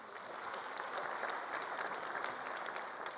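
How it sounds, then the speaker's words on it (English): Sustained applause from a large audience at the national announcement of the 2022 matric exam results by the Department of Basic Education, a dense, steady wash of clapping throughout with no talk. "If we can give a round of applause once again."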